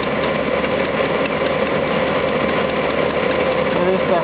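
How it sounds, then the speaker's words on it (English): An engine with an exhaust manifold leak runs steadily and loudly up close on a hot day, giving a continuous rough, ticking drone with no break. "There is definitely an exhaust manifold leak on here."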